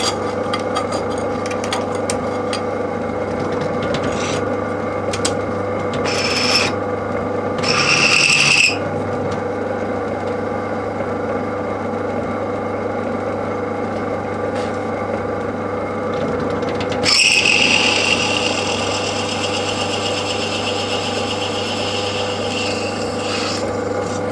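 A drill bores into a wooden handle, a steady close whirring grind running throughout, with brief louder rasping surges from the bit biting into the wood, and no talk.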